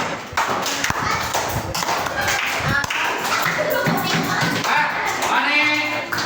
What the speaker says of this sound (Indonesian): Tepuk tangan untuk Pak Leri.